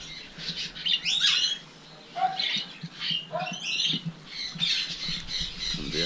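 Parrots including a ringneck squawk and chirp from backyard aviaries, harsh repeated calls in bursts close by, with softer chirps in between and no talking.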